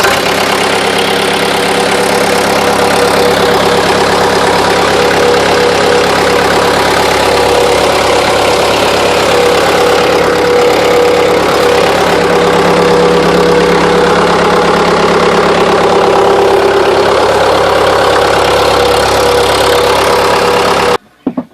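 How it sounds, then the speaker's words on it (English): A 2008 Cat 287C skid steer loader's large diesel engine idles steadily and loudly, holding an even rumble with a low knocking undertone, alone with no voices, before cutting off abruptly at the end. "It's got a very large engine. It starts up and it runs out very well, as you can see."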